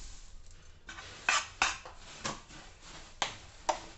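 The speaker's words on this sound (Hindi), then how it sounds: "और इनको चलाते रहना है लगातार ताकि ये सब में चिपक जाए इसमें जैगरी" Puffed rice being stirred into melted jaggery in a pan off the heat, with a spoon scraping and knocking against the pan in several sharp clinks over a dry rustling crackle, close and moderately loud.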